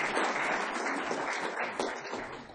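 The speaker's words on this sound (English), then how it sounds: "let's have a round of applause for Martin and his..." An award ceremony audience claps in a brief, even round of applause, moderately loud and continuous, with no talking.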